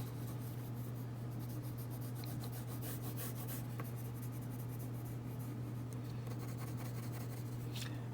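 Prismacolor colored pencil scratching quick, loose texture lines across paper while drawing a fall pumpkin, a close, steady dry scraping with short strokes over a low constant hum.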